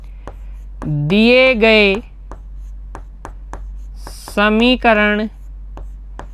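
Marker or chalk strokes on a board during a maths lesson, a steady series of short scratchy taps running throughout while someone speaks over them in two brief phrases.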